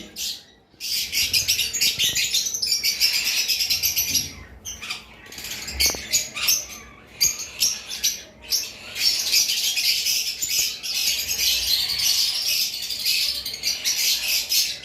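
High-mutation lovebirds in a bird sale, dense shrill chirping and squawking from several birds close by, nearly continuous with brief pauses, no talk.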